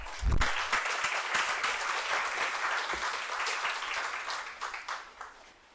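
An audience at a Quechua wisdom book presentation gives steady, warm applause to welcome the book commentator. The clapping starts sharply, holds for several seconds, then fades toward the end.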